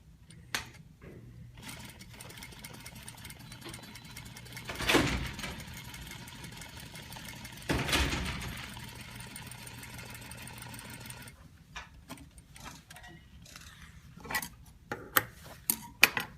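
Home sewing machine stitching a garment's neckline facing, running in two short bursts with mechanical ticking between, then stopping for small handling clicks and taps near the end.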